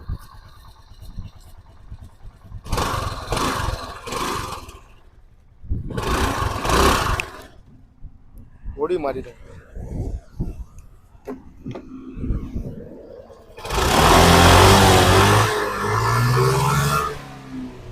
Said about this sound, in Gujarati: તમને ઇન્જિનનો અવાજ પણ સંભળાવી દઈશ